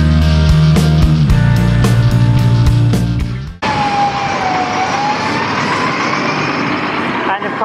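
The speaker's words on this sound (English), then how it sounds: "The moment I start to record, very loud vehicles pass." Loud traffic roars close by, with heavy vehicles passing and an emergency siren wailing in a gliding tone through the second half, the noise continuous and dense.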